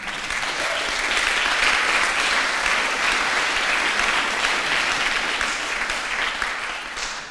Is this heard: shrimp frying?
no